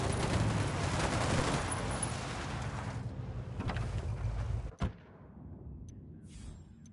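Sustained gunfire in Ghost Recon Wildlands, a dense, loud burst of rapid shots that stops abruptly with one sharp crack, leaving quieter ambient wind behind.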